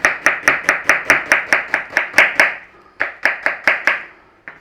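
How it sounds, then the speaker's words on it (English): A knife slices onions thinly on a cutting board in a rapid, even run of crisp chops. After a brief pause comes a second shorter burst, then one last isolated tap, loud and close with no talk. "We want to actually slice some onions"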